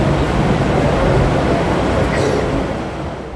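A train rumbles with a loud, steady, close roar that fades slightly toward the end, with no talk.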